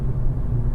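A car accelerates in commuter traffic, a brief, loud, deep engine rumble heard from close by without any talking.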